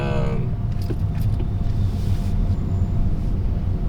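Heavy road traffic rolls past as a steady, dense low rumble of car engines and tyres, continuous and fairly loud with no clear gaps, and faint light jangling near the start.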